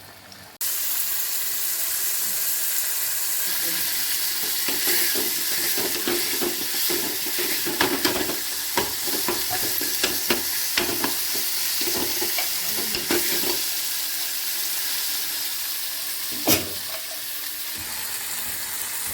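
Brinjal poriyal sautéing in a pan with onion, tomato, curry leaves, mustard seeds, urad dal, turmeric and sambar powder, a steady loud sizzle broken by repeated scraping and stirring strokes of a spoon, with no talking.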